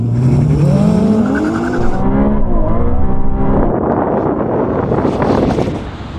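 Ferrari 296 GTB and Ferrari SF90 launching side by side in a drag race, engines rising through the gears with loud revving and wind rush, the pitch climbing, dropping at a shift, then building again before easing off at the end.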